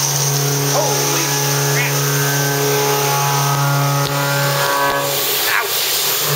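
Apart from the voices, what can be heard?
boring mill machining metal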